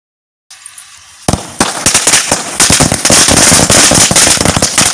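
Diwali firecrackers burst in a village: after a brief silence, sharp loud bangs begin, then build into a dense, continuous crackling run of rapid pops close by.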